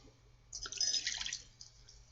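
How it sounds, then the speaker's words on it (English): Water splashes and drips as a tea cup is rinsed under a tap, a short burst of running water near and moderately loud that tapers off. "I better rinse out my cup. And give that a bit of a rinse"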